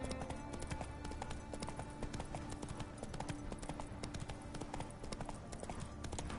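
Hooves of the horse Roach clip-clop steadily in the Witcher 3 video game, a fast rhythmic clatter running throughout, fairly faint and mixed with game ambience.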